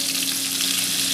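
Chicken shashlik skewers frying over low heat, a steady close sizzle with broadband hiss throughout and a low hum beneath, no voices.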